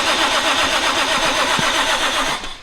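A Toyota JZ-swapped car engine cranks and fires, a loud, steady mechanical roar with rhythmic pulsing close by that drops off slightly at the end.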